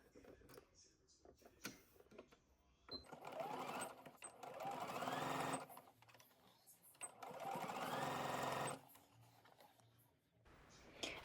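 A sewing machine stitches down extra seam allowance in two sustained bursts of rapid, close mechanical whirring, with short pauses and light handling noises between runs.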